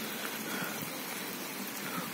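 Heavy rain pours steadily over a flooded paddy field, making a dense, even hiss with no pauses throughout.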